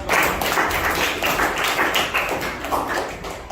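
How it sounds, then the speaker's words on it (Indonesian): Audience clapping in a teachers' coaching session after a group presentation on solar eclipses, a dense burst of many hands applauding together, near and fairly loud, steady throughout with no voices. "tepuk tangan sekali lagi"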